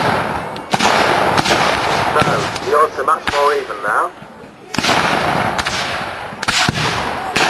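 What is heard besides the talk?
musket and cannon fire at Civil War reenactment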